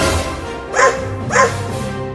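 A dog barks twice after being struck, two loud close woofs about half a second apart over a steady background hum.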